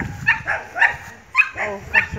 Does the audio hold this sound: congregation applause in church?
no